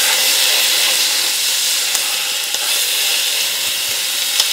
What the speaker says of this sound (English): Now we got the meat, and we're going to sear that.